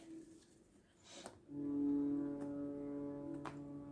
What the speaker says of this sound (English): Foghorns on the river.